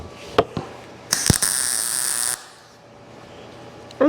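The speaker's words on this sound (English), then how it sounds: "show the people how nice this machine can weld" Arc welding a T-joint with a beginner's welding machine: a steady crackling, hissing buzz lasting over a second, close and loud, with a few sharp clicks before it and brief noises at the end.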